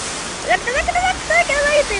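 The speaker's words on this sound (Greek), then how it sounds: "Τι νερό είναι αυτό ρε παιδιά, τι τρελό νερό είναι αυτό." Wild, rushing water roars as a continuous, loud torrent, with an excited voice calling out over the flow.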